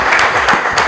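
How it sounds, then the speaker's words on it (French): Brief burst of audience clapping welcoming a contestant on a quiz show in Lubumbashi, loud and close, with a few distinct claps standing out in under a second. "merci beaucoup de l'applaudir, de l'accueillir"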